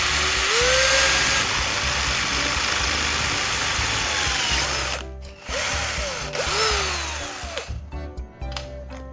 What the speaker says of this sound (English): Now I'll drill an extra hole in the middle of the can's body